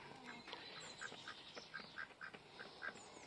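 Duclair ducks quacking in a poultry yard, a run of short nasal calls spaced irregularly over a low outdoor background, moderately near and alone without talk.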